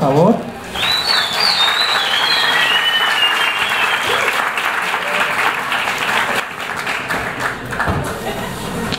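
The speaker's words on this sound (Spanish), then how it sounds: "Un aplauso, por favor" An audience applauds a climate change expert panel in Colombia as panelists are introduced, sustained close clapping with a whistle rising briefly at the start, then easing slightly toward the end.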